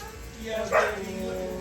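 A poodle puppy on the grooming table lets out a brief high-pitched whimpering yip midway, close by, against a low steady background hum.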